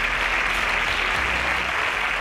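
A studio audience claps loudly for a contestant on a quiz show, a dense, even burst of applause lasting a couple of seconds with no voices.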